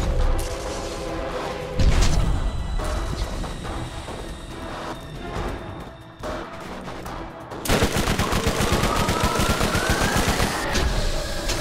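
Video game SMG fire: rapid automatic bursts and booming shots crackle loudly and continuously, switching to a dense, fast stream of rattling fire in the second half.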